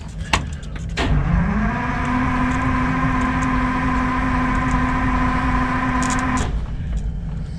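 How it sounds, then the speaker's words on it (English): A bus motor spins up with a short rising whine, then holds a steady electric hum with tonal overtones for several seconds before cutting off, close and fairly loud, with a few clicks at the start and end. "Let's see if the bus motor fires up here."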